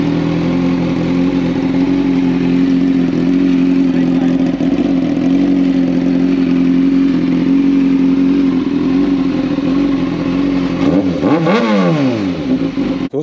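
A sport motorcycle engine, a 1000 from a dig race between a 2003 GSXR 1000 and a 2006 Ninja 636, drones loud and close at a steady high idle, then revs sharply up and down near the end.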